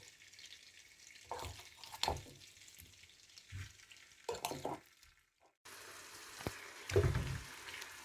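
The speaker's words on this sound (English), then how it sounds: "So I'll just put in the prawns right there." Prawns going into a hot pan for a garlic and ginger stir fry, giving bursts of sizzling and frying with stirring scrapes between quieter gaps, close and moderately soft.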